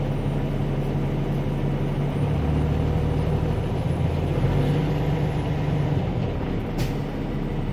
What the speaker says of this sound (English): The governor just cut out.